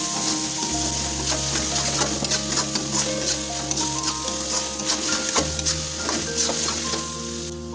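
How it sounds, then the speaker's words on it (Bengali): About 100 grams of chopped onions fry in a hot karai for homemade chicken ghugni, giving a steady, close, loud sizzle with occasional stirring scrapes throughout. "পেঁয়াজ কুচি যোগ করে দিয়েছি। এখন এটাকে আমরা প্রায় 3 মিনিট ধরে ভাজা করে নেব।"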